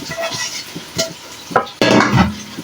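Mixed vegetables are stirred into spices and pumpkin vadi in a pan. A few spoon scrapes come first, then a louder burst of sizzling frying takes over for the final second.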